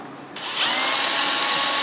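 A power drill spins up and bores into hardwood decking, a loud, close, steady high whine that rises quickly and holds without pause.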